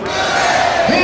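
A convention panel crowd gives a loud, sustained cheer for Sir Grant, many voices shouting together in one brief burst.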